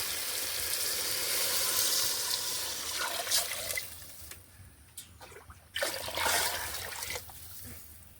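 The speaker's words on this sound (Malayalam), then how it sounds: "ഒന്നര പാത്രം വെള്ളം ചേർത്ത് കൊടുക്കുക" Water is poured into a cooking pot for biryani rice, a sustained close gush and splash that thins into trickles and brief splashes toward the end, with no talk.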